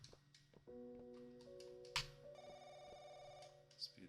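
An old-style telephone rings inside the horror video game Firework, giving a bright electronic ringing tone over a low, droning ambient background, with faint sharp clicks and knocks.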